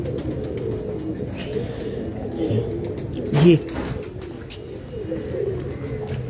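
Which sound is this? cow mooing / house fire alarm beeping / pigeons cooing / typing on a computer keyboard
pigeons cooing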